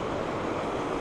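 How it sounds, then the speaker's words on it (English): Waterfall in a remote corner of the English wilderness, a steady broadband roar of falling water that stays loud and unbroken throughout, with no voices. "The waterfall over here is also gorgeous"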